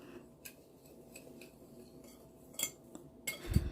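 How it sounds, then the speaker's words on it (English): A utensil scrapes and clinks against a bowl while stirring dry cornbread ingredients, light taps scattered across a few seconds with a louder knock at the end, close and quiet. "All the dry ingredients are being stirred up right now here."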